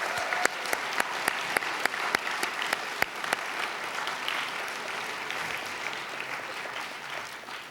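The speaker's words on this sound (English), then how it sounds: "give a round of applause to each of those organizations who have helped us put this on" A conference audience at a leadership event applauds: crisp individual claps ring out first, then swell into dense, steady clapping from a crowd filling the room before tapering slightly.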